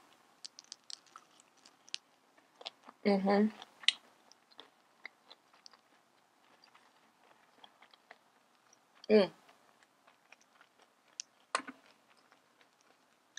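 Kimbap dipped in spicy tteokbokki sauce being eaten, soft close chewing and biting with a few louder wet bursts between quiet stretches, no talking.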